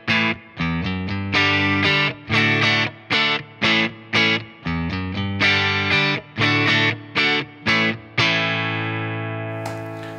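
Distorted electric guitar played through an impulse-response cabinet emulator, a series of chugging, chopped power chords that ends on a long, loud ringing chord left to sustain, heard alone with no voices.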